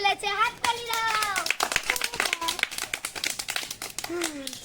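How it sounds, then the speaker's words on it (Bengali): People clap in bursts of sharp, overlapping slaps during a children's indoor game of knocking over glasses with a ball, mixed with children's voices chattering throughout. "হাততালি দাও"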